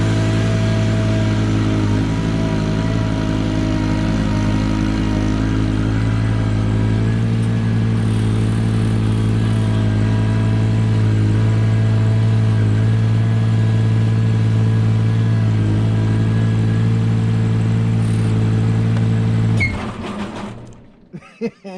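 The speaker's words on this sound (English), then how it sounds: "The engine's not warmed up enough." Engine of a snow removal machine runs loud and steady in cold snow with a constant droning hum, still not warmed up, then sputters out and stops abruptly near the end.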